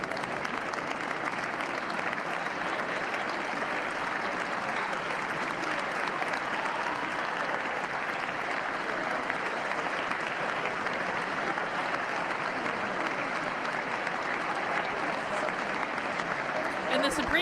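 Members of Congress give sustained applause during a Trump address, a dense, even wash of clapping from a large crowd that carries on for the whole span at a moderate distance.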